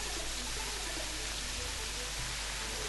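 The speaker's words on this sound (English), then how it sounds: "And it's still so rainy." Rain in the video game Terraria, a constant dense hiss of falling water that stays even and unbroken throughout.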